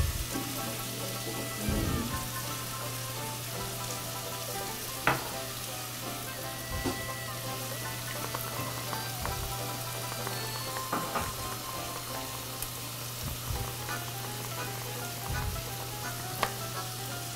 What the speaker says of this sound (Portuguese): e vou misturar um pouco aqui o filé